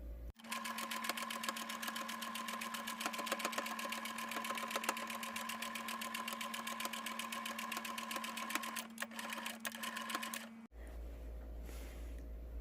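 A sewing machine runs a steady, fast stitching rhythm for about ten seconds along the 0.5 cm outer seam of a fabric hot pack pouch, then stops abruptly, leaving quiet room sound.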